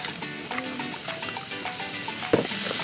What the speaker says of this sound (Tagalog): Gisa lang natin konti